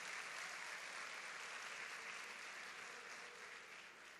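Sustained applause from a church congregation, dense and steady throughout at a moderate distance, with no voices over it.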